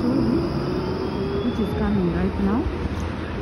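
A tram rumbles along with steady low mechanical noise and wavering wheel squeals and whines rising and falling throughout.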